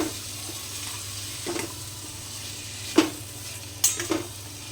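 Potatoes are stirred into a mustard seed and cumin tempering over low heat, a quiet steady sizzle with a few distinct scrapes and taps of a spoon against the pan, nearby and without voices.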